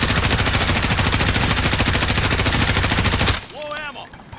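Sustained automatic fire from an M4A1 rifle in Call of Duty: Modern Warfare, a rapid, loud, evenly spaced stream of shots that stops abruptly near the end, followed by a brief voice.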